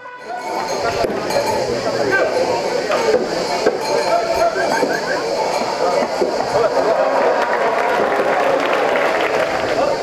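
A crowd claps steadily throughout at an outdoor Camargue cow-racing event in Remoulins, France, mixed with clinking, scattered hoofbeat-like knocks, music and background voices, a busy outdoor cheer that never pauses.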